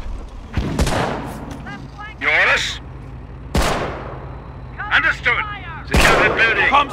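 Gunfire bursts from a Company of Heroes battle at Angoville, loud sharp shots and volleys repeating across the scene, mixed with voiced unit acknowledgements.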